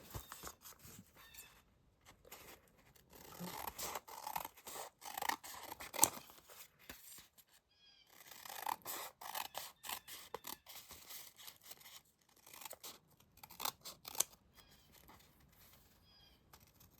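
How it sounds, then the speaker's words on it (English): Scissors snip through a scrap of newspaper to cut out a ladder shape, with close, crisp cuts coming in irregular bursts separated by short pauses and paper rustles. "now I'm going to cut a ladder."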